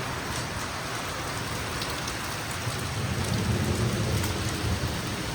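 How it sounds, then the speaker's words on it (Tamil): Heavy rain pours steadily on surfaces in a farm village during a hailstorm, a dense close roar with a low rolling rumble of thunder swelling in the second half. "மக்களே பெரிய மழையோ வருது."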